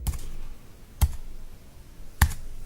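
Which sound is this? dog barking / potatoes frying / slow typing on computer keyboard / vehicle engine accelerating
slow typing on computer keyboard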